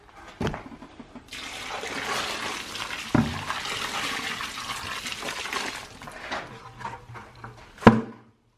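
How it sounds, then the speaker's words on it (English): Water poured into worm bedding soil for nightcrawlers, a steady splashing, gurgling stream lasting several seconds, bracketed by a few sharp knocks and clunks, with no one speaking. "Time to add some water."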